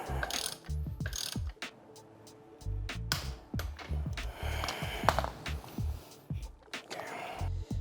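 Ratchet wrench torquing down the strut top hat nut on a Mazda NA Miata MX-5 suspension, a run of quick close clicking bursts with brief pauses between pulls.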